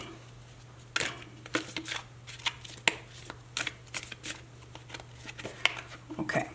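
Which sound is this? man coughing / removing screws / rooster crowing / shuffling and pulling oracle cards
shuffling and pulling oracle cards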